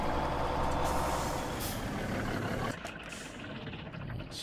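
A Kenworth logging truck in Farming Simulator 17 releases a loud, sustained burst of air brake hiss over its engine rumble, then drops to a steadier, quieter idle partway through.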